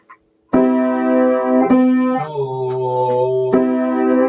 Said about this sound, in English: It'll sound something like this on the piano when I play it.